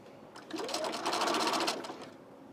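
A sewing machine stitches a T-shirt in one short, fairly quiet burst, its rapid needle clatter rising and then tapering off, with no talking.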